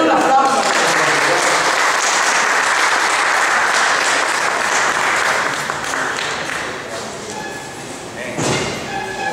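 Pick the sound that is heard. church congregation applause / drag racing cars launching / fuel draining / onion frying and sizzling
church congregation applause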